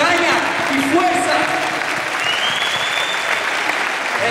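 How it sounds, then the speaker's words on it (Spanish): A crowd at a breakdancing battle between b-boy crews claps loudly and continuously, a dense wash of applause filling the room. "palmas para esos B-Boys"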